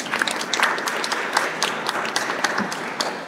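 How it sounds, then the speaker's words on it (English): Audience applause at an English-language session on foreign graduates of Polish universities: a short, steady burst of many hands clapping in a hall, moderately loud and unbroken. "Okay, so one more time, huge applause."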